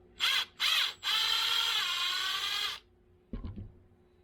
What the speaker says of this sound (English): I'll go ahead and use my impact for that.